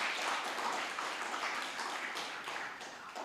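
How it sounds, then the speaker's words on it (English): An audience applauds a guest speaker at a talk on BRICS. The clapping is dense and sustained, a broad patter of many hands, and eases off slightly toward the end with no voices over it. "I think that needs a round of applause"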